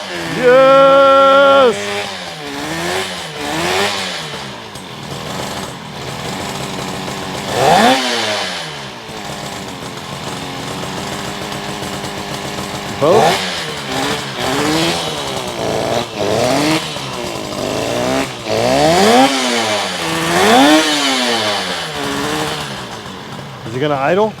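1972 Yamaha LS2 motorcycle engine sputtering, revving in repeated blips and settling into a fast, buzzy idle, loud and close, with people talking over it.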